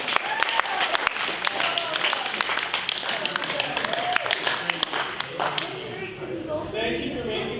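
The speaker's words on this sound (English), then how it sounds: "Give her a big round of applause" Audience at a 2D Con 2019 convention panel breaks into applause, a dense crackle of many hands with sharp individual claps standing out, fading near the end as voices talk over the thinning sound.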